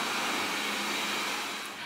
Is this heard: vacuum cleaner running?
yes